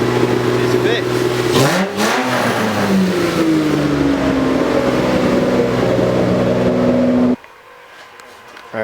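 A Toyota 2JZ engine with a full exhaust and muffler revs hard, loud and close, in a rising roar that falls back to idle, then cuts off abruptly near the end.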